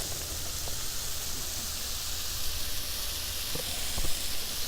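Vegetables sizzling in oil on a Blackstone griddle for fajitas, a steady close hiss running evenly throughout with a few faint clicks and taps, no voices.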